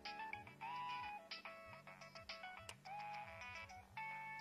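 A telephone rings with a repeating electronic melodic ringtone, bright tonal notes in short phrases, fairly quiet and alone.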